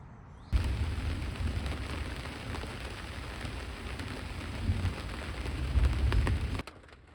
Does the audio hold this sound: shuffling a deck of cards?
no